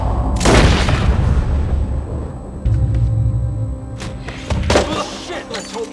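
A single heavy gunshot in Red Dead Redemption 2 booms out early, then fades into a low rumbling tail with soft thuds and movement sounds afterward.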